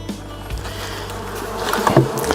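Honey bees buzz around an opened beehive in a continuous close drone that swells briefly near the end, with no speech.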